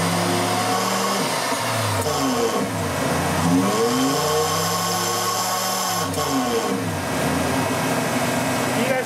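Car engine revved up to a steady 2,000 RPM during alternator circuit voltage drop testing, a loud continuous hum with tones rising and falling several times across the whole span, under a constant mechanical drone.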